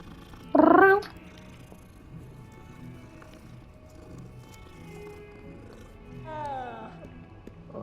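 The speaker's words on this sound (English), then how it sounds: "Hello, kitty cat." A cat in the Hogwarts Legacy video game meows loudly and briefly once, then gives a softer second meow a few seconds later, over quiet game ambience and a player talking.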